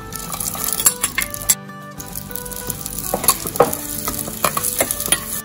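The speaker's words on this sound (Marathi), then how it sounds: "आता इथे आपला हा कांदा असा छान परतून झाला" Finely chopped onion sautés in oil in a clay pot, sizzling close by while a spoon stirs with repeated knocks and clinks against the pot, briefly cutting out once.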